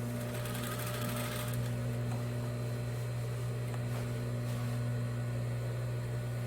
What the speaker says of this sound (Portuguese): É só ir abrindo e costurando